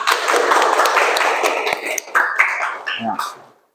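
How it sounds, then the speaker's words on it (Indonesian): A group claps together in a dense burst of applause that thins into scattered claps before falling silent. "tepuk tangan untuk kita semua"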